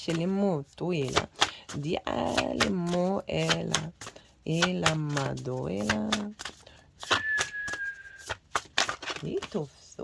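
Tarot cards are shuffled and drawn in a series of quick, close riffles and flicks, heard in short bursts that alternate with someone talking.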